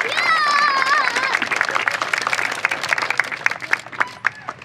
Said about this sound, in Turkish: Alkış o zaman.